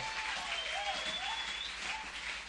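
A church congregation claps together in acclaim of the Lord, a steady, dense spell of applause with voices faintly heard underneath.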